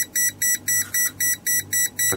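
Venlab VM-600M multimeter giving an over-range warning with a loud, steady train of about nine short electronic beeps, evenly pulsed roughly four per second, heard alone.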